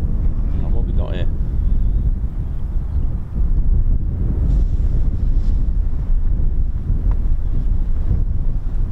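Strong gusty wind buffets the microphone at RAF Mildenhall airfield, a loud continuous rumbling roar that rises and falls, with a person talking faintly underneath.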